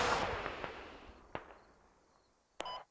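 A weapon firing in the military shooter game Squad: a sharp blast fading into a long echoing rumble, a few smaller distant cracks, then another abrupt loud report at the end.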